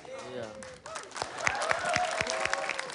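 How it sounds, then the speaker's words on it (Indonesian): Studio audience clapping for three contestants on a talent-style show, fairly soft and steady, with a voice speaking over the applause throughout. "ya boleh tepuk tangan sekali lagi untuk ketiga peserta ini"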